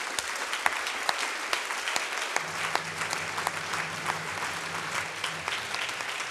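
A church congregation applauding during a Sunday worship service, steady dense clapping throughout with a low sustained musical tone entering partway through.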